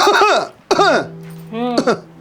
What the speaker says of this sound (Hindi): खखारा करने की क्या जरूरत है।